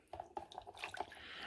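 Photopolymer stamps swirled in stamp-cleaning water, giving soft close dripping and sloshing splashes in quick irregular bursts, faint and alone.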